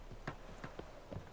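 Horse hooves clip-clop in The Witcher 3 video game, four or five spaced, moderately loud steps in an uneven walking rhythm over a steady background hum.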